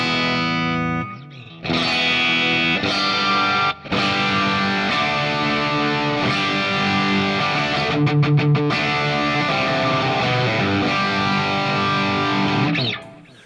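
An electric guitar played through Axe Fx III amp models such as a Deluxe, C30, Jubilee and Jubilee Plus, loud driven chords and riffs with a few short pauses and a burst of rapid choppy strums.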